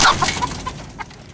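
A brief burst of hens clucking, several short sharp calls close by, quickly fading into a few scattered clucks.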